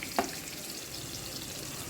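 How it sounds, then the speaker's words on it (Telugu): Onions fry in a pan with a steady, soft sizzle that runs unbroken at low volume, with one faint clink near the start and no voices. "ఉల్లిగడ్డలు బ్రౌన్ అయ్యేదాకా వెయిట్ చేద్దాం."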